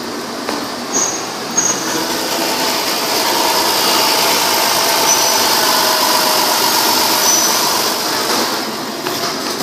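A 2006 Dodge Caravan SXT with a gray interior pulls away, its engine giving a steady, loud broadband drone and road rumble that holds evenly throughout with no talk.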